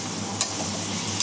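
Ginger-garlic paste frying with onions in a pan is stirred close up, giving a steady soft sizzle with two brief scraping strokes of the spoon.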